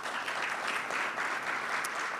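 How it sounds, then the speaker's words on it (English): An audience at a CARICOM Resilience Fund launch claps steadily for about two seconds, a dense, even patter of many hands with no voices over it. "Round of applause again for Beres."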